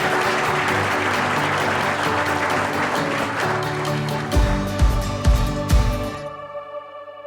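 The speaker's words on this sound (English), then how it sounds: "So please give them a round of applause." Audience applause at a trade event celebrating new partnerships between Canada and Colombia, a steady sustained clapping that swells with a few louder claps near the end before fading out.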